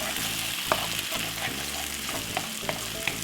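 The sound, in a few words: scrambling eggs with mushroom and white onion in pan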